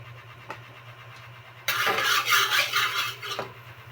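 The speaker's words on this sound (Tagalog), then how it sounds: "magpainit na tayo ng ating kawali" A kawali frying pan being handled on a stove as it heats, with a faint knock and then a loud burst of scraping and clattering metal over a low steady hum.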